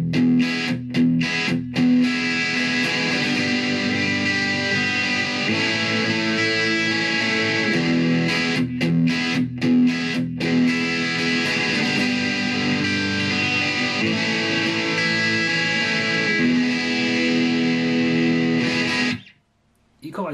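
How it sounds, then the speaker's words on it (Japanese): An Epiphone Les Paul played through a Zoom MS-50G on its Marshall 1959 amp model, with spring reverb last in the chain, rings out in loud, heavily distorted sustained chords for about twenty seconds before cutting off abruptly. "MS1959 マーシャルの1959のモデリングで、一番最後にスプリングリバーブを置いております"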